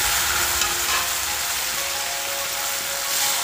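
Dried chillies and tomato fry in hot oil for a Bengali fish curry, giving a steady, loud, close sizzle with a faint scrape of stirring underneath.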